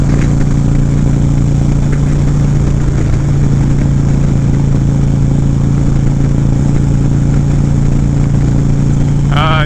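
A Harley-Davidson Ultra Classic motorcycle fitted with S&S cams rumbles loudly and steadily at close range, its deep engine drone continuous throughout, with a brief higher-pitched warble at the very end.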